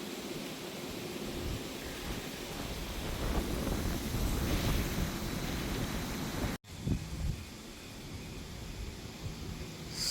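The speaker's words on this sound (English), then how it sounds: "It's very windy" Strong wind roars steadily across the microphone in a broad, rushing gust, with one brief dropout near the end before the blustering resumes.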